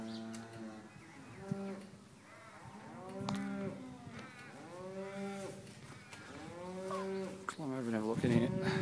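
Several dairy cows moo in long, drawn-out calls one after another on a milking farm, loud and close, the lowing overlapping toward the end.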